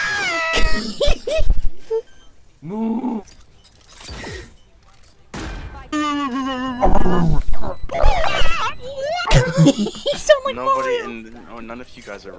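Several players in Valorant voice chat imitate cat meows, overlapping and trading loud, drawn-out mews and yowls with short pauses in between, interrupted by bursts of talk.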